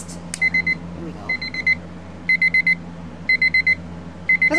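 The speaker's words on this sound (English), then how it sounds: "The alarm is, of course, your typical cheap alarm sound." Cheap dollar-store alarm clock shaped like a train and made entirely of ceramic rings in five evenly spaced bursts of rapid, shrill electronic beeps, each about half a second long, over a steady low hum in a quiet room.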